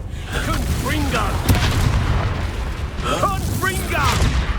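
A Confringo fire spell explodes in Hogwarts Legacy with a deep, rumbling boom amid constant battle noise, while a voice shouts over it.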